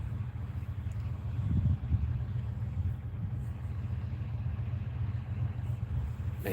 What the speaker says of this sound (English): that truck come out here got real loud